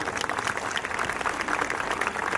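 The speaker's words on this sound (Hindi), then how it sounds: "उसके लिए एक बार जोर से ताली बजाइए" An audience at a school annual function claps for the child anchors, a steady, busy patter of many hands at even strength, with no speech over it.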